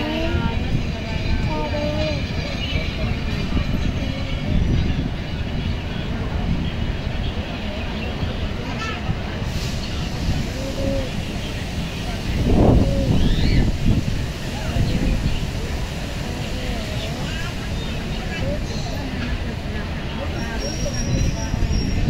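A train pulling out of Dhone junction railway station, heard as a steady broadband rumble and rolling noise with a louder swell midway, wind buffeting the microphone, and a voice speaking over it.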